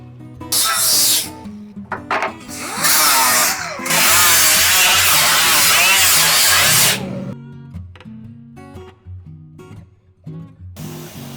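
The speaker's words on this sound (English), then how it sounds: "let's clean this guy up with the grinder and should be good" A power grinder cleans up the edge of a freshly cut metal piece, with three loud, harsh bursts of whining abrasion close by, the longest lasting about three seconds, separated by brief pauses and followed by quieter handling noises.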